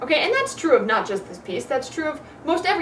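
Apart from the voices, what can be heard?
No everyday noises stand out.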